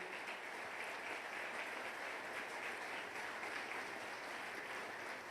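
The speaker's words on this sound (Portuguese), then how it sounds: "eu quero pedir aos irmãos que nós possamos aplaudir o Senhor Jesus" Church congregation at a regional Christmas celebration applauding together, a dense, even wash of many hands clapping that holds steady throughout at moderate volume with no speech over it.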